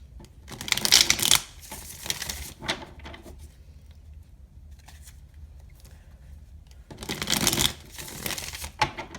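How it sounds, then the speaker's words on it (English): Tarot cards are shuffled in two quick riffling bursts, one early and one late, with soft handling and faint rustling in between. "And 2 more shuffles."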